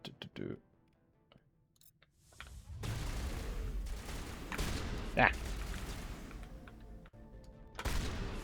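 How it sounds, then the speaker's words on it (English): Shotgun blasts from the Mass Effect Legendary Edition video game, with loud, heavy booming shots and busy game noise filling the background. "Jeez, the recoil on the shotgun's crazy."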